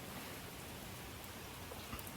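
Steady rain falls on an outdoor surface, a soft even hiss of drops, continuous and fairly faint throughout with no voices.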